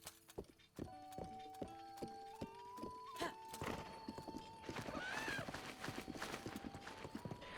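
A horse galloping and neighing in Breath of the Wild, rapid rhythmic hoof clip-clops close by, then a loud rising whinny midway before the hoofbeats carry on under a game music tone.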